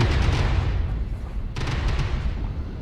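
Heavy mech weapons in MechWarrior Online fire in two booming bursts, dense and close, each followed by rumbling decay.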